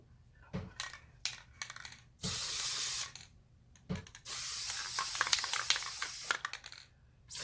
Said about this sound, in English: Just gonna spray heavier in some areas, skip some areas